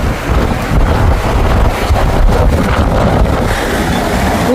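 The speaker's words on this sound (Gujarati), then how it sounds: "પુષ્કળ પવન આવી રહ્યો છે" Strong wind buffets the microphone outdoors by a roadside in Canada, a loud, rumbling, gusty roar that surges and pulses continuously, with no speech.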